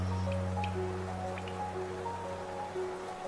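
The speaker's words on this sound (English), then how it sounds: "The rain and all that, it's just nice. Peaceful." Rain dripping in the Hollow Knight video game: soft scattered drips and droplet taps over a sustained low musical drone, gentle and steady with no voices.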